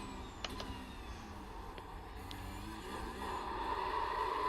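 A Porsche Cup race car in the iRacing sim runs at Indy road course. A steady engine drone carries a few sharp knocks as it strikes the curb, and the engine note rises toward the end.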